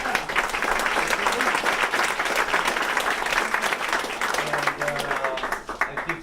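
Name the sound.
audience applause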